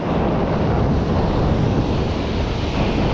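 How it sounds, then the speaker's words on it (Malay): Strong wind buffets the microphone outdoors by the water during cast-net shrimp fishing, a loud, steady roaring rush that fills the whole stretch with no talk. "angin boleh tahan."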